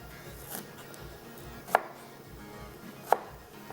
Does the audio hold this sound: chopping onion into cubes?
yes